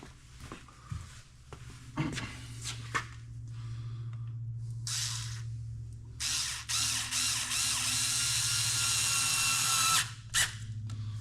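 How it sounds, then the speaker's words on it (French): Screwdriver driving screws into wood during hinge and handle fitting in an expedition camper van: a low steady motor hum with short whirring bursts, then a longer, louder whine of driving that stops, followed by one brief final burst. "sur les premières vis que j'installe, j'utilise toujours ce tournevis plutôt que ma visseuse à choc"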